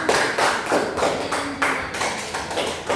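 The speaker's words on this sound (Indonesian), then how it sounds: "tepuk tangan dulu untuk semuanya" Students in a class clap together in a rhythmic pattern, sharp bursts of many hands landing in an even beat, close and fairly loud.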